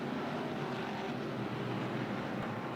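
IMCA stock cars race down the back straightaway at RPM Speedway during the Fall Nationals, a steady distant engine drone rolling across the oval at moderate level without speech.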